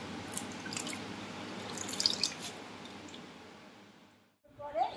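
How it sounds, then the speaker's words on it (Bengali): Jute leaves being rinsed in a bowl of water, giving steady close splashing and dripping that runs for about four seconds, cuts off briefly, then returns with a few sharper splashes. "পাট শাকটা আমি বাছার পরে আমি ভালো করে ধুয়ে নিচ্ছি, 3-4বার ধোবো, ধুয়ে তারপর জলটাকে ফেলে দেবো।"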